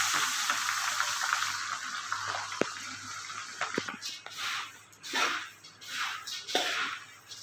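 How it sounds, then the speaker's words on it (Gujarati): Puffed rice for spicy sev mamra roasts in a pan over a low flame, a soft dry crackle with rustling, scraping stir strokes coming and going at close range. "હવે આ મમરાને ધીમા ગેસે બધું મિક્સ થાય ત્યાં સુધી શેકવાના"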